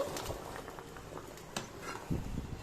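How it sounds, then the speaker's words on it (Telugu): Sweet corn kernels boil in a pan, giving a soft, faint patter of bubbling with a few small pops and splashes, heard alone without speech. "ఇది మనకి బాయిల్డ్ అవ్వాలి ఇలా."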